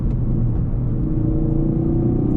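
A Ford Focus RS engine rumbles steadily from inside the cabin while downshifting, a low continuous drone with a slight shift in pitch as the gears change.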